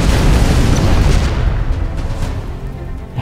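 A loud, booming shell explosion in the artillery video game Shellshock Live, a single heavy blast with a broad rumbling burst that slowly fades and thins out over a few seconds.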